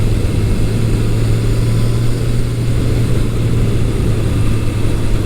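A 1983 Suzuki GS1100E motorcycle engine on a test ride after restoration, a loud, steady low drone with constant wind and road rush throughout, with no clear change in pitch.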